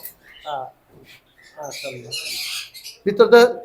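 Parrots at a bird farm, where red Moluccan lories and sun conures are kept, let out sharp squawks in short bursts, closest and loudest at the end, mixed with people talking.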